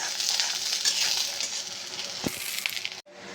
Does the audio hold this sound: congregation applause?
no